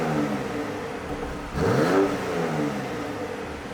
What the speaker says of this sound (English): let's see what comfort is like with the flaps closed first